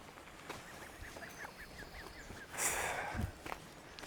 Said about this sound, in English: There's a load of geese here